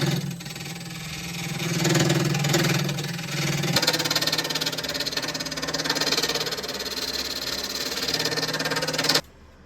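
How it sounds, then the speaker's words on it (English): On a lathe, a negative rake scraper smooths the inside of a wooden bowl made from scrap boards. The motor hums steadily under a continuous dense scraping hiss, which stops abruptly near the end. "I'm using a negative rake scraper because there isn't much to take off."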